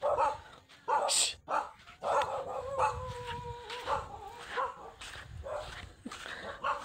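A dog barks repeatedly at a campsite, several sharp, close barks in irregular bursts.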